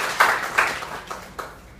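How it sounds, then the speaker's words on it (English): A few scattered claps from a small audience at a public speaking session, four separate sharp hand claps spaced unevenly, close and fading in a quiet room. "Please clap for him."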